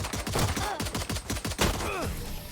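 Gunshots in a competitive video game match: a rapid, loud series of closely spaced shots, nearly a dozen in a steady rhythm, then a brief pause and a few more, with whooshing ricochet-like sweeps between them.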